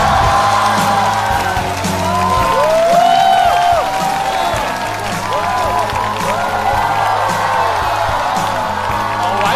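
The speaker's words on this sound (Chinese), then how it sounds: "掌声有请你们，拜拜。" A stand-up comedy audience bursts into loud, sustained applause with cheering and whoops that fill the hall evenly for several seconds.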